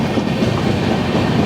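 Saurashtra Janta Express rolling through the night, with a steady, close rumble of wheels and carriage noise and a faint clickety-clack rhythm throughout.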